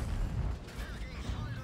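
An AMX 50B tank cannon fires in World of Tanks, heard as a heavy, booming low rumble that fills the short moment and rolls steadily without a clear break.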